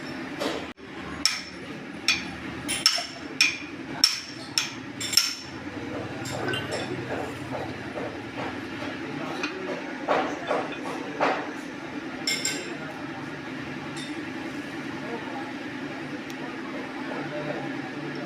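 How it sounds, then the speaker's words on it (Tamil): A hammer strikes the metal cup of a new rotavator star joint during assembly, giving a run of sharp, ringing clinks in the first few seconds. Scattered lighter taps follow over a low background hum. "இப்போ இன்னொரு சைடு கப்பு அடிப்பார் பாருங்கள்"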